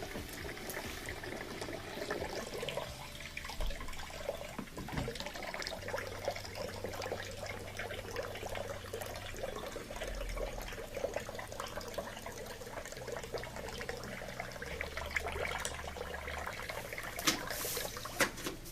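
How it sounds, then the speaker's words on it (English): Water draining from an LG washer's drain tube, a soft continuous trickle and gurgle that stays faint and steady throughout, with no talking. "let any water that's left in the machine drain out"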